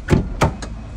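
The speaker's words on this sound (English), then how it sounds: "open up the door, and you're gonna get in at 3-point contact" A Class A truck cab door opens with two quick metallic clunks and a fainter third knock, close and short over a low background hum.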